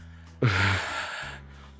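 A person imitates heavy breathing: a sudden sharp, loud inhale or gasp, followed by a breathy exhale that fades out, heard close and without speech.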